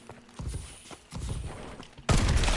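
Bursts of gunfire in a first-person shooter match, loud close shots in a few rapid volleys with heavy thumping impacts, ending in a sustained loud blast.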